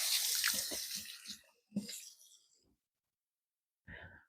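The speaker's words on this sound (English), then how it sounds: "Now I'm going to rinse my fingers off." Running tap water rinsing fingers in a kitchen while preparing a cucumber and watermelon salad, a close splashing stream that tapers off, then a short burst of water again after a pause.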